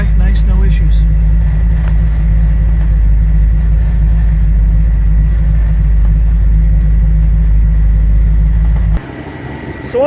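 A 1968 Chevy Camaro engine runs steadily with the clutch engaged, a loud continuous low rumble close by for about nine seconds before it suddenly drops away near the end.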